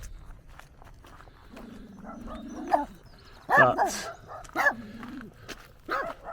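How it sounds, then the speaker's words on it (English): Puppy barking outdoors on rural land in Ireland, a few short barks at moderate distance mixed with someone talking and light background noise. "there seems to be a dog barking, but hopefully he should be harmless"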